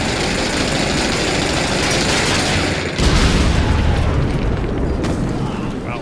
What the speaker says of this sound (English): Wow, that was a big explosion.